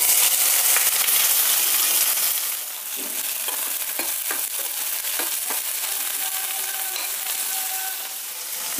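Onion and curry leaves hit hot oil already holding mustard seeds and lentils, and a loud, dense, hissing sizzle follows. Scattered crackles and pops sound close up, and the sizzle eases slightly partway through.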